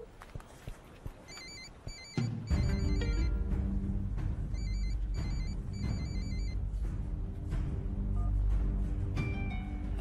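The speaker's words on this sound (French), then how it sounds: "Ça sonne." A mobile phone rings in short repeated double bursts, fairly close, over a steady rumbling background with some clatter.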